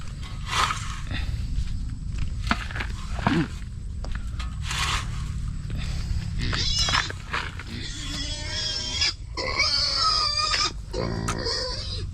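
A pig on a small farm grunts and squeals in short bursts over a steady low background hum, with other animal noises and brief human voices mixed in.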